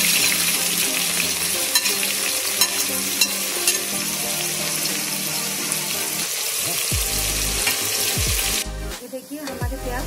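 Onions frying in salted mustard oil for mutton nalli nihari give a dense, continuous sizzle up close, and a scrape of stirring and a brief burst of running tap water come near the end.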